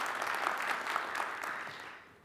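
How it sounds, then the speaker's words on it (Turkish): At a Turkish Mevlid recitation competition, a hall audience applauds in a steady, dense wash of hand claps that fades away toward the end. "Alkışlar eşliğinde uğurluyoruz."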